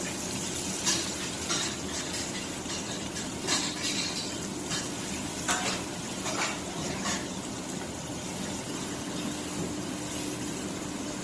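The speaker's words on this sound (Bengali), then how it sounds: "পেঁয়াজটা ভাজা হোক।" Onions frying in a pan for a fish curry, a faint continuous hiss with occasional light clinks and stirring scrapes of a utensil, quiet and steady, no talk.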